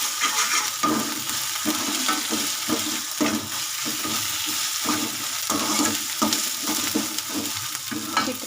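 Ginger paste frying in a pan, a steady close sizzle with rhythmic scraping strokes of a spoon stirring it every half second or so.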